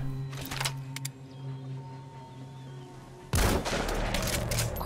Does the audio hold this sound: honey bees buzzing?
no